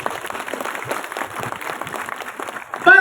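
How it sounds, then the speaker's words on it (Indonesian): Audience applause during an Indonesian Islamic religious lecture gathering, a fairly soft, continuous patter of many hands with no voices, ending in a brief louder sound. "Tepuk tangan untuk Indonesia."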